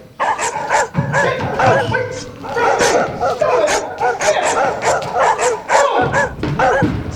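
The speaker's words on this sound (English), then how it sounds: "Our hillbilly neighbors, the Bubbases, had at least 785 smelly hound dogs" Many hound dogs at a rural neighbor's place bark and yip in a loud, busy chorus of overlapping barks throughout, with a brief pause near the end.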